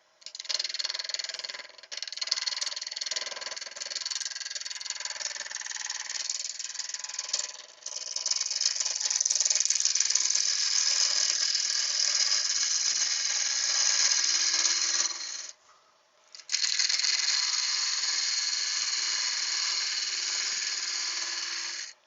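Woodturning on a lathe, a 1/2 inch spindle gouge cutting a Banksia nut to make a bud vase: a steady, bright, raspy cutting hiss that runs loud and close, breaking off briefly twice as the tool lifts away.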